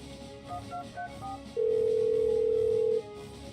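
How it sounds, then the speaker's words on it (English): A phone call rings in the video game Troubleshooter: a few short rising electronic beeps, then a loud, sustained steady tone lasting about a second and a half, with quiet game ambience underneath. "Little phone call."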